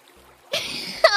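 A brief burst of river water splashing and rushing in a camping video game, rising suddenly out of near silence halfway through, with a sharper splash at the end.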